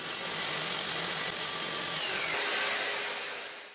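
A table saw whines loudly through a cut on a workpiece held in a finger joint jig, its pitch dropping midway as the blade loads, then spinning down toward the end.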